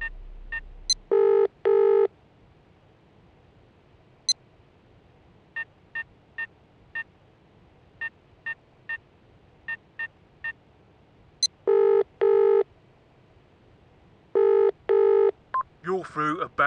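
A telephone in the video game Barrow Hill rings through to voicemail, with paired electronic ring bursts repeating at intervals among short, sparse beeps, ending in a brief burst of other sound.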